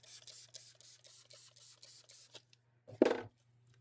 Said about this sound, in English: Going to spritz some alcohol right over here.